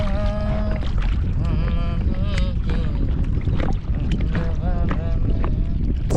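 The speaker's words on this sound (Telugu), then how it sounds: "గాలి మాత్రం బీభత్సంగా పెట్టింది" Strong wind buffets a fishing boat at sea, a loud steady roar of gusts pressing against the microphone. Voices and a clear tonal melodic sound run underneath throughout.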